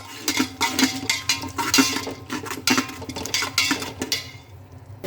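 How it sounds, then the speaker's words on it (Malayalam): A spoon scraping and clinking against a pan while tomato and onion masala is stirred, a repeated rhythmic metallic knocking close by that fades out at the end. "ഇനി നല്ലപോലെ ഇളക്കി കൊടുക്കും"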